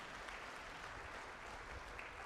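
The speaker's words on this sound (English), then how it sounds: "Please join me in giving her a heartfelt round of applause for this" An audience claps steadily after a Bharatanatyam Arangetram dance performance, a dense, continuous wash of many hands at even loudness with no voices over it.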